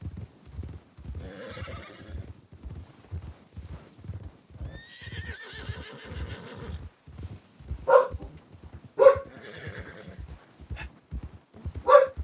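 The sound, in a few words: dog barking in video game RedM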